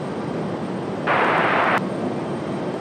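Frontier Boeing 737 jet taking off from Raleigh-Durham airport, a broad roaring burst of engine noise swelling for under a second above a constant hiss, heard at a distance with no voices.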